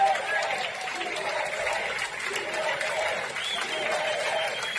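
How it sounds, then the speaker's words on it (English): A crowd at a rally against vaccine rules cheers and applauds loudly and without a break. The noise is dense and sustained, and voices shouting within it suggest a chant. "look at the cheering and the fist pumping and the USA chant"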